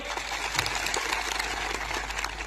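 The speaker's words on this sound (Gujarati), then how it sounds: "આજે આ મંચ પરથી એમના માટે જોરદાર તાળીઓ પાડી લો" A crowd at a rally in Gujarat's Aravalli–Sabarkantha region claps loudly and continuously, a dense patter of applause with a low hum underneath.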